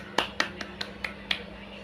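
Six sharp, separate claps land in a quick, slightly uneven rhythm, nearby and fairly crisp against a quiet background.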